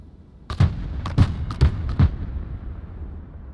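A fire mission in the video game Broken Arrow brings a rapid series of about six sharp, punchy artillery reports over two seconds, some coming in close pairs, each followed by a fading boom and a trailing rumble.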